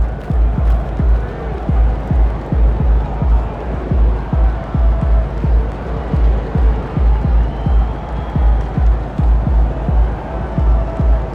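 Arena crowd noise swells and cheers throughout a Portland home game in the NBA 2K25 basketball game, with steady sneaker-squeak and bounce-like rhythmic thumps underneath and an announcer's voice over it.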